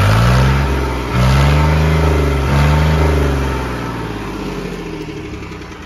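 A John Deere 5050 tractor engine revs hard and close, a loud droning roar that swells, dips briefly and rises again before easing down toward the end.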